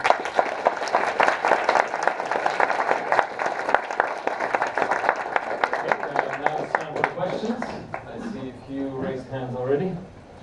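Audience applause after a talk on game marketing strategy: dense, loud clapping for several seconds that thins out, with a speaker's voice coming in over the last stretch.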